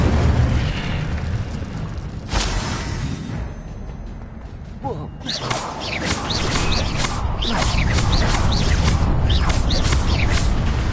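Fiery bursts and booms from an Incendio spell cast in Hogwarts Legacy roar loud and continuous, with crackling pops layered throughout and a voice shouting over the effects.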